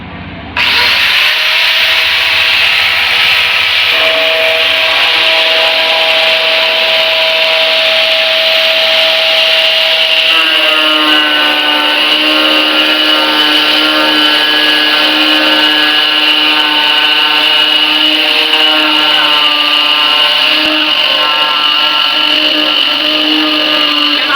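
All-around cutting disk grinding through material, a loud sustained high-pitched power-tool whine with shifting tones as the cut progresses, running nearly the whole time with no voices.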